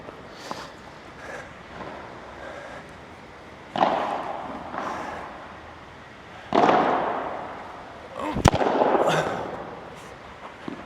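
Padel smashes hit with a Nox ML10 Quantum 3K racket, several sharp impacts with ringing decay spaced a few seconds apart, one crisp crack near the end, heard at moderate distance over court ambience.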